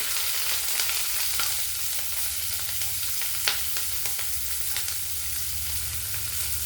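Chopped onion and green chili pieces frying in oil for an old-style okra curry: a steady, close hiss of sizzling with occasional small pops and crackles, no voices.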